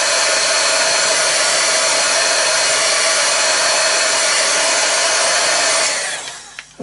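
A hair dryer blowing on a watercolour painting, a loud steady close-up roar that cuts off near the end.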